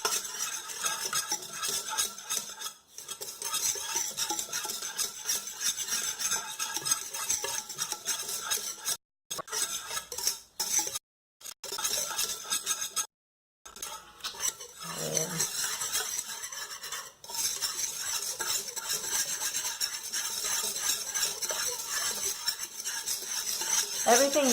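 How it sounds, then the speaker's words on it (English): Dry ingredients for vegan lemon cookies whisked in a large bowl, giving a continuous scraping, clinking rhythm broken by a few short pauses. "going to whisk those dry ingredients"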